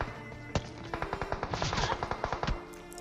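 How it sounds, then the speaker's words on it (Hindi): Automatic gunfire in the mobile battle-royale game PUBG Mobile: a rapid, rattling burst of loud shots with a heavy opening crack, firing steadily for about two seconds. "वो वाला बंदा फायर कर देता है"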